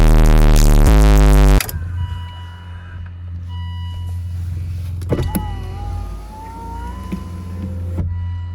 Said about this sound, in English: I'm going to open the windows